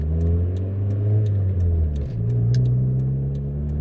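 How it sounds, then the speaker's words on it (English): A 28-year-old Honda Civic pulls away from a stop with a smooth, steady engine drone heard from inside the car; the pitch dips briefly midway, then settles and continues evenly. "it also accelerates smoothly from a stop"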